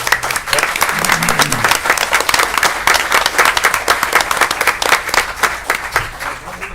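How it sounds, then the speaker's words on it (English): A city council meeting audience gives police and fire department members a round of applause, with steady, dense clapping filling the whole stretch and some voices mixed in. "So I'd like you, everybody give them a big round of applause."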